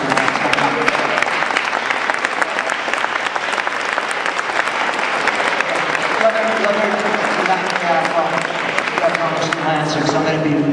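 An audience at a policy event applauds to honor people for their bravery, dense sustained clapping throughout, with voices and cheering mixed in toward the end.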